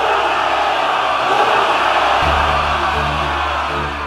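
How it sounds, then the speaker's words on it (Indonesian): Loud massed cheering and shouting of soldiers below a fortress, a dense overlapping roar of many voices that holds steady, with low bellows surfacing in the second half and a sharp burst at the very end. "di bawah benteng, suara sorakan yang keras mulai terdengar memecah keheningan bersaut-sautan"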